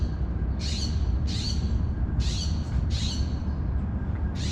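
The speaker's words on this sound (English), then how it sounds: "That is an owl." An owl perched on a handrail on a deserted arts campus gives four harsh, raspy screeches at regular intervals over a steady background roar.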